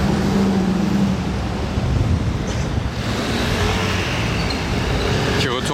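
A car accelerating along a Monaco street, a loud broad engine roar mixed with dense roadway noise and wind that swells and holds close by, with someone talking over it.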